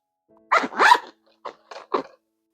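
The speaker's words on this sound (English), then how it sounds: "their zipper is definitely the smoothest out of all the pouches I reviewed today" A pen pouch's zipper pulled in a few quick strokes, close and clear, with short gaps between the pulls and no talking.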